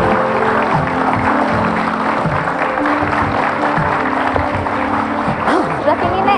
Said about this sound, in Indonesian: Mari kita kasih tepuk tangan untuk Nenek Tunjiatun.